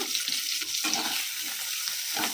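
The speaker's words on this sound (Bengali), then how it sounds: "একটু নেড়ে নেব" Masala with tomato and coriander stems sizzling in a pan for chicken tikka masala while being stirred, a steady close frying hiss broken by soft scraping strokes of the spoon, with no talking.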